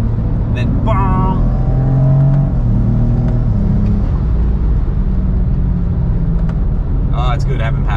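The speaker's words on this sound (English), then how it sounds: "I'll show you how it goes through the gears in sport mode" A BMW fitted with a swapped DCT gearbox and a single-mass flywheel accelerates in sport mode. The loud cabin engine note climbs in pitch, then drops at quick gear changes before settling into a steady drone.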